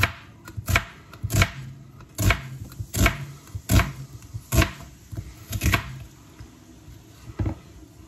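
A knife chops bitter gourd finely on a board, about a dozen sharp, uneven thuds close by with brief pauses between strokes and no talk.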